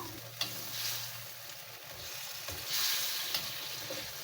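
Crisp-fried fish being stirred into sambal tumis in a hot pan, with a steady close sizzle and occasional scraping knocks from the spatula. No one speaks.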